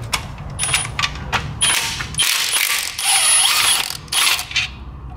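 A ratchet on a wobble extension loosening transmission bolts on a BMW E39 540i, with rapid clicking pawl bursts and metallic turning, loud and close with brief pauses between pulls.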